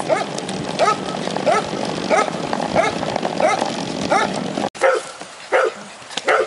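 Several puppies bark and yip in quick, repeated bursts, close by and fairly loud, with a brief cut partway through.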